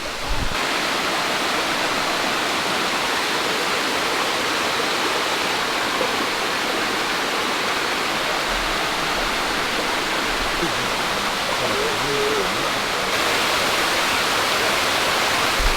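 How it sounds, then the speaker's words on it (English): A 35-meter waterfall on the Mount Huxley Track in Tasmania roars in a constant, loud rush of falling water, broadband and unbroken, with no voices over it. "That's a super cool waterfall."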